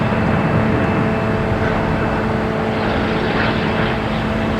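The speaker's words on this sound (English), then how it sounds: "we have Aer Lingus heading back to Dublin in A330-300" An Aer Lingus Airbus A330-300 airliner at Boston Logan Airport produces a constant, heavy jet roar that stays loud and steady throughout, with no voices.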